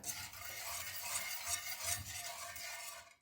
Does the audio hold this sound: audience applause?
no